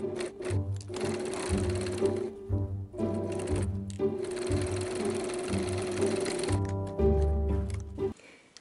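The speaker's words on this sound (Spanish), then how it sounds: "Y vamos a coser por aquí." Sewing machine stitching fabric for a tea cup pouch bag, running in close, loud bursts of rapid mechanical whirring with short pauses between runs.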